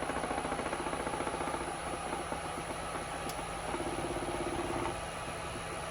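A wood lathe spins at speed with a wobble, a steady mechanical drone carrying a rapid rhythmic pulsing throughout, with a faint high whine over it.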